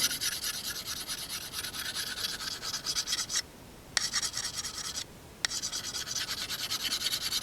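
Steady rasping strokes of a knife edge being sharpened to a steeper secondary bevel on an LT Wright Leuku big knife, repeated close and loud, with two brief pauses between passes.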